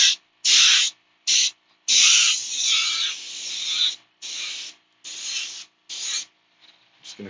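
Airbrush spraying paint onto a vinyl toy in a series of close, bright hissing bursts of varying length with short silent gaps between them.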